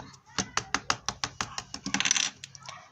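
Dry pasta pours out of its opened package, a quick clattering rush of hard pieces striking and scattering, close up and loud for a few seconds before trailing off, with no voice over it.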